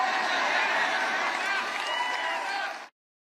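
Trump rally crowd cheering loudly and steadily with mixed applause and shouts, a dense roar that continues unbroken, then cuts off abruptly.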